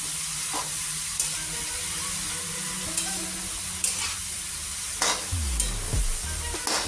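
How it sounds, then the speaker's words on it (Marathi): Grated carrot halwa being stirred in a pan with a steady sizzle of frying, a spatula scraping and tapping in occasional strokes close up. "तर आता याला सारखं आपण हलवत राहायचं, जेणेकरून खाली चिटकणार नाही"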